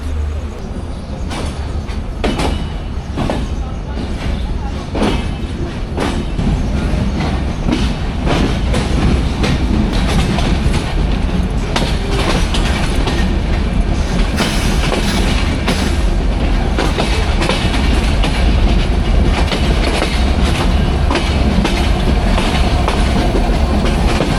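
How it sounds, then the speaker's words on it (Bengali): Madhumati Express, train number 756, rolling out of Rajshahi in Bangladesh, heard from on board as a loud, steady rumble with rhythmic wheel clatter and clicks over rail joints, and faint voices now and then beneath the noise. "ট্রেন ছেড়ে দিলেন রাজশাহী থেকে"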